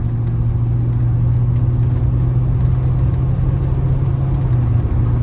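A barn-find Chevrolet C10 pickup cruising on an open highway, its engine a steady loud rumble under continuous road and tire noise, unchanging throughout with no voices.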